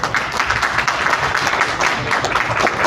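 An audience at a book presentation for the novel "Tierra de Canes" applauds its author, a dense, steady wash of clapping from many hands throughout, with some murmuring mixed in.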